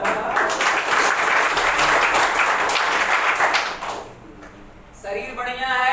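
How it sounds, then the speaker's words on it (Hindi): Audience applause fills a hall during a Hindi-language business seminar, steady dense clapping for most of the stretch before thinning out, then a burst returns near the end, with voices mixed in. "तालियों के लिए।"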